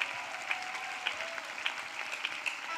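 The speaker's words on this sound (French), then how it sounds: "Acclame pour Dieu. Clap for God." A church congregation claps together at a prayer and worship service, a steady, dense wash of many hands with a few sharper individual claps standing out, sustained at moderate distance without a break.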